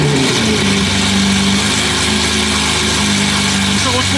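A Lamborghini fitted with a full-tube exhaust idles with a steady, deep rumble, holding loud and continuous throughout.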